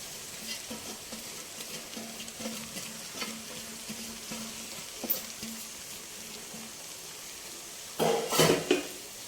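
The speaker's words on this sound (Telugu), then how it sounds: "ఈ గోంగూరని ఈ ఆయిల్లో మగ్గబెట్టుకుందాం. ఆయిల్ వేడెక్కిందండి." Gongura leaves frying in hot oil for Andhra gongura pachadi, a continuous sizzle with repeated metal stirring clinks against the pan, ending in a louder burst of scraping.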